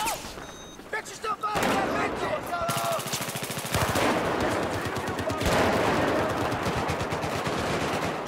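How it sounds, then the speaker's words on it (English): Sustained bursts of M60 machine gun fire in Battlefield 4, loud and rapid, with dense rattling volleys running almost continuously through the clip and brief gaps between bursts. "God, I love the M60 so much."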